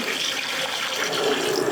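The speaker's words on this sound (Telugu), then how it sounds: "ఇప్పుడు వాటర్ పోసుకుంటాం అన్నదాన్ని." Water is poured into a cooking pot while Nellore-style doopudu pothu biryani is being made, a short continuous splashing rush that is loud and close.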